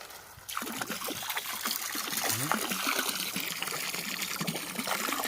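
A garden hose at full pressure sprays water onto an Intex pool pump filter, a steady close hiss and splatter that starts after a brief quiet moment and continues throughout.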